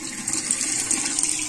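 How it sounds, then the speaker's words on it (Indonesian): A cold water tap on a household water heater setup is opened, letting water run in a steady, broadband rush with a continuous hiss and no talking. "Ini saya buka keran dingin."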